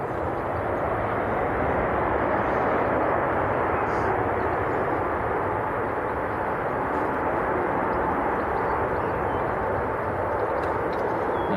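An airliner lands at Leeds Bradford Airport with a steady, broad engine roar that holds at an even loud level throughout, close and continuous with no talk over it.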